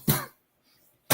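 A single short cough followed by a second one about a second later, close and fairly quiet against near silence in an indoor conversation setting.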